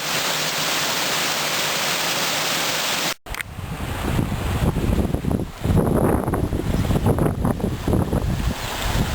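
A steady, roaring rush of falling water from a mountain waterfall in the Chornohora range fills the air, loud and continuous, briefly cut off before resuming with a rougher, gusty texture.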